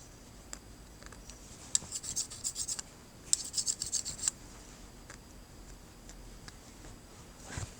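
Groomer shears are sharpened on a 45 micron stone, with quiet rasping strokes in two short bursts of rapid rubbing and scattered faint scrapes and taps around them.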